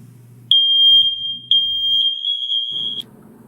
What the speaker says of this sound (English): We're now going to test the alarm.